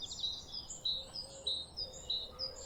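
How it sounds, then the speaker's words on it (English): Birds chirp and tweet in a garden, a repeating series of bright high calls that is fairly faint, with a soft steady background hiss like flowing water beneath. "Birdsong, the gentle buzz of the bees, and the swooshing stream in the background start to mix together"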